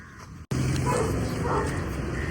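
Dog barking at a dog show in Thrissur, a few short barks heard over a loud, dense crowd and general show-ground noise.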